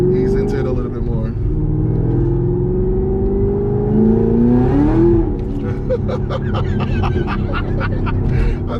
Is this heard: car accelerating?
yes